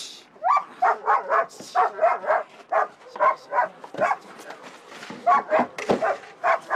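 A dog barks repeatedly in short bursts from inside a car during a rescue demonstration, where a dog blocks rescuers from extracting a victim; loud, rhythmic yaps with occasional whimpers, and no talk over them.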